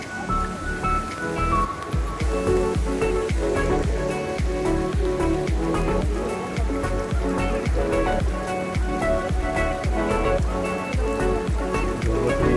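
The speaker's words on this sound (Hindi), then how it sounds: "बहुत तेज बारिश आ रही है।" Heavy rain pours steadily onto a hard surface, a dense patter of close drops and splashes that continues without a break.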